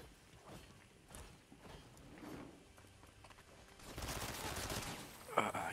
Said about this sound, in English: Kids shooting at me now.